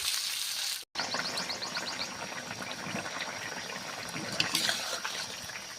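Fish curry made with koi fish, seasoned with salt and turmeric, bubbles in a pot, a soft, steady simmering hiss with faint bubbling after a brief cut, fairly quiet throughout.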